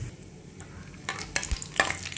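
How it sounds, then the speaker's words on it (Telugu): Peanuts, cumin and mustard seeds fry in hot oil for a Telangana-style snack, a close sizzle marked by sharp spattering pops and quick stirring scrapes, with no talking. "దాంట్లోనే కొద్దిగా జీలకర్ర, కొద్దిగా ఆవాలు వేయించాలి."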